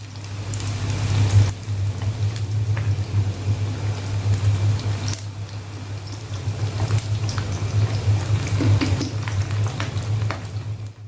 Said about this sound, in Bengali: এখন আমি চিকেনটা চিকেনগুলো আমি একের পর এক তেলের মধ্যে দিচ্ছি এবং ভেজে নিব